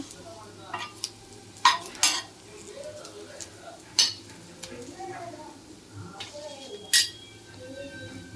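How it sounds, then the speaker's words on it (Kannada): Cumin seeds being fried in a pan while raw mango chutney is cooked, heard as a faint, steady sizzle under sharp clinks and scrapes of a spoon stirring against the pan. "1 ಸ್ಪೂನಷ್ಟು ಜೀರಿಗೆ, ಒಂದು ಸಲ ಫ್ರೈ ಮಾಡಬೇಕು ಈ ಥರ."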